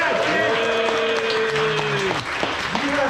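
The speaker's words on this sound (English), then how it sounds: "Y'all get Drake a big round of applause for him" A crowd at a live snake show at the Ark Encounter gives a volunteer a big round of applause, a dense continuous clapping with voices and cheering mixed through it for the whole stretch.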